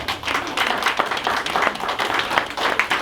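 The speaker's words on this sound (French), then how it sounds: "je vous prie de les applaudir, s'il vous plaît." Audience at a charity gala claps steadily, a dense, lively patter of many hands with no voices over it.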